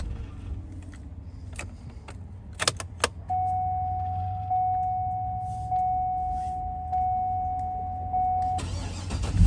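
A 2009 GMC Yukon Denali AWD with a 6.2 V8 starts up after a few key clicks and dash chimes, cranking briefly before settling into a steady, close idle with a sustained tone over the engine.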